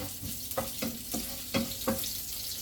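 Chopped ginger, garlic and onion fry in oil in a pan, a steady broadband sizzle with several sharp stirring clicks and scrapes of the utensil against the pan, close and fairly loud, no talk.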